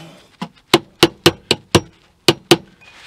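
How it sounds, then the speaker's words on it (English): A hammer taps a small piece of wood about eight times to make an indent in a van galley door build, a light, fairly even rhythm, crisp and close, with quiet pauses between strikes. "now I'm going to use a hammer, just gently tap that, make an indent in my little piece of wood"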